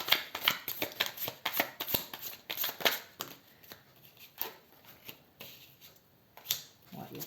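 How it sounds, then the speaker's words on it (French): Tarot cards are shuffled by hand in quick, papery riffles and slaps, a dense burst at first that thins into scattered softer flicks, close and fairly quiet, with someone speaking French over it. "Ouais, il y a trop de cartes. Je vais juste les mélanger."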